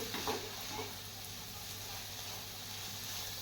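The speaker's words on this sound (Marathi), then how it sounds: "आणि एक ते दोन मिनटं पुन्हा एकदा हे सर्व छान असं परतून घ्यायचं" Bottle gourd halwa mixture, flavoured with cardamom powder, stirred and sautéed in a pan, giving a steady soft sizzle and scraping that runs on alone throughout.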